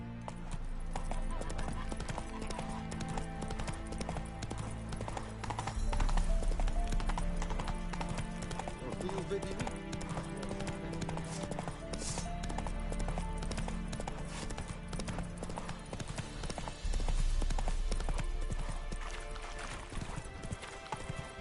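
Horse hooves clip-clopping at a gallop in The Witcher 3, a steady rapid rhythm running throughout at moderate level with an occasional whinny and a faint voice over the game sound.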